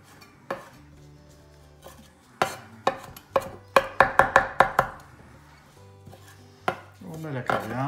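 Fresh coriander being chopped finely with a knife on a board, sharp close knocks, first spaced out and then a quick run of rapid strokes, with faint ringing kitchen hum between and no talking.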